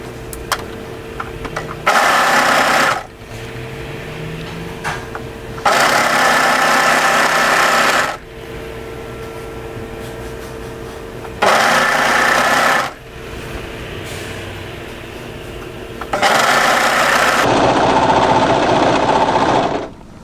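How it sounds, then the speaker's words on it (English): Sewing machine stitching the underarm seam of a panel sweatshirt, running in four loud, steady bursts of a few seconds each, separated by quieter pauses with faint handling noise. "going to sew up the underarm area, matching the notches and making sure the underarm seams sit directly on top of each other"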